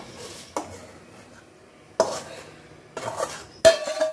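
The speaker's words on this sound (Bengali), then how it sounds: "মশলাটা এবার খিচুড়ির মধ্যে দিয়ে দেবো, দিয়ে ফুটিয়ে নেবো" Spoon scraping and clattering in a pot of Bengali khichuri as spice mix goes in and gets stirred, with a few sharp metallic knocks spaced across a quiet kitchen.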